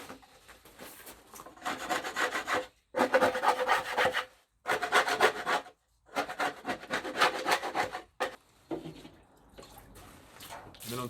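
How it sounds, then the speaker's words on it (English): Hard wax being scraped off a poly beehive with a metal scraper, close and fairly loud, in repeated rough rasping strokes separated by short pauses. "so you just need to get in there with a scraper and get those off."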